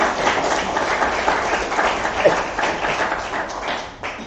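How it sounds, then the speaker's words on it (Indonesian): An audience at an Indonesian certificate ceremony claps together in a steady burst of applause that fades slightly toward the end, with no clear speech over it. "Tepuk tangan untuk Telkom."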